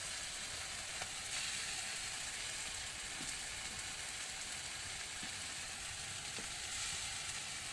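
Garlic paste in hot oil giving a steady, even sizzle that hisses continuously without a break, with only a few faint clicks rising above it.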